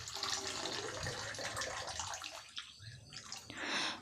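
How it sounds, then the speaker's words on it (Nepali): Water is poured as an offering onto a Shiva shrine in a temple during the Shravan Monday observance, a close steady splashing and gurgling stream that pauses briefly before surging again. "अनि म चाहिँ ढोका खोलेर भित्र पसेँ अनि पानी चढाउँदैछु।"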